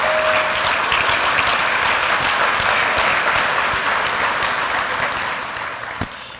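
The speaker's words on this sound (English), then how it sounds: "Give them a big round of applause." Audience at an awards dinner applauding: dense, sustained clapping throughout, gradually thinning and fading toward the end.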